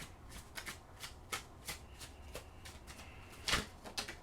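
Oracle cards are shuffled by hand, giving a series of soft, crisp riffling bursts spaced irregularly, with one louder snap near the end, close and quiet with no talk.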